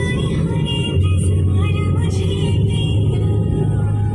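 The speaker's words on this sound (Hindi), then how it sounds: "निकिता के पापा गाड़ी चला के लेके जा रहे हैं" A car driving along a road, its engine and tyre rumble a steady low drone for the whole stretch, fairly close and even in level, with faint voices or cabin sounds over it.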